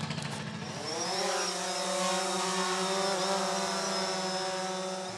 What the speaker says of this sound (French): Pour aller vite, il utilise ce drone.